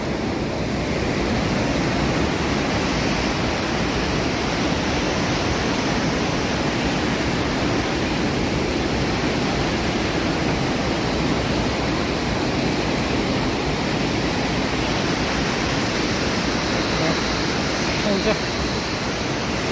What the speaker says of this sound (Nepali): यो रेली खोलाको दृश्य